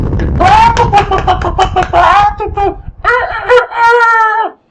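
A human voice imitates hens, letting out a string of clucking and squawking calls in quick, loud bursts.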